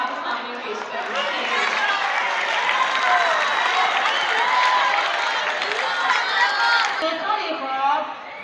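An audience applauding at a high school special assembly for an Urdu speech competition, a sustained dense roar of clapping and crowd noise from many students, loud and steady throughout.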